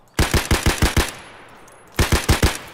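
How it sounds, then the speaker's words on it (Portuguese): Rapid bursts of automatic gunfire in the video game Escape from Tarkov, in two volleys, about six quick shots, a pause, then four more, sharp and close with no talking. "Tô tomando tiro."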